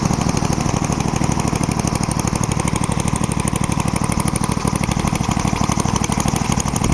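A Falcon four-stroke engine on a powered paraglider trike runs steadily at idle, a loud, close, even rapid chugging pulse with a quiet exhaust and no talking.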